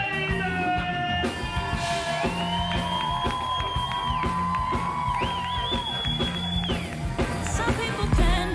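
A live audience cheers and whoops for a singer at a broadcast concert, crowd noise steady and mid-distance under a sustained instrumental backing with held synth tones.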